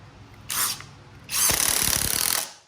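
A SKIL PWRCore 20 impact driver drives 2.5-inch Phillips head deck screws all the way down, first in a short whirring burst, then a longer run of rapid hammering impacts, close and loud with no talk.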